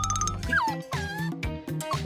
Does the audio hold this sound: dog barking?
yes